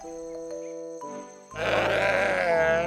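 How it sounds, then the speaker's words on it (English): Bighorn sheep bleating in a kids' animal-sounds sequence: a loud, wavering nasal bleat rises after a tonal musical lead-in and carries for over a second, close and clear with no talk. "Bighorn sheep,"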